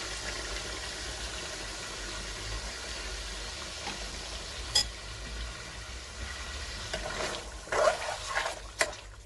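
Chicken and yogurt frying together in a karahi, a soft steady sizzle with occasional clinks and stirring scrapes near the end, quiet throughout with no voice over it.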